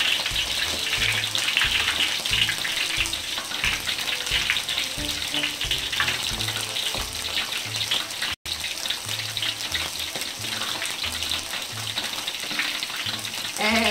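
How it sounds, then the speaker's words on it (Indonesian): Chicken pieces for a black pepper paprika dish fry in a hot pan with a loud, continuous sizzle and crackle, broken by short clanks and scraping as they are stirred, and a brief dropout midway. "Kita lanjut lagi, goreng lagi di sini."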